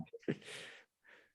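A single sharp sneeze bursts out during a conversation, preceded by a quick intake of breath, with a softer breathy trailing sound afterward.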